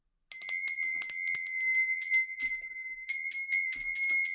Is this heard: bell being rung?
yes